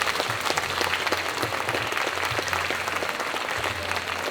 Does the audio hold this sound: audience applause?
yes